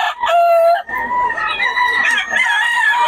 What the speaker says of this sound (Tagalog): Ang daming manok ngayon, mga boss.